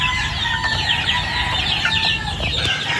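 A busy flock of chicks and adult chickens, the birds of a gamefowl breeder, clucking and cheeping together in steady overlapping calls close by, with rooster crows mixed in and no talk.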